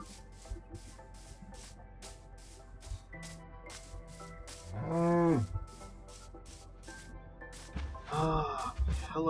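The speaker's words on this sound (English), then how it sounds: "Ah, hello, cow." A Minecraft cow lets out two clear moos against looping game background music, the first long and loud near the middle, the second shorter near the end.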